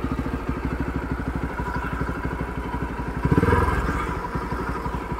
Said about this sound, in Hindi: देख रहे हो भाई क्या ही बेसी साउंड आ रहा